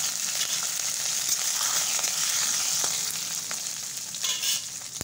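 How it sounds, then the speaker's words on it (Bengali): Urad dal and five-spice seeds frying in hot oil, a steady close broadband sizzle with scattered crackles and pops and occasional stirring scrapes, no talking. "পাঁচফোড়ন আর কলাইয়ের ডাল দিয়ে দিলাম, একটু ভাজা ভাজা করে নিচ্ছি।"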